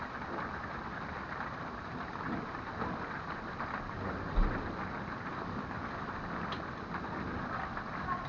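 Steady rain with low thunder rumbling through a supercell thunderstorm near Harriman and Rockwood, Tennessee, a continuous wash of rain noise with one brief louder rumble partway through and no voices.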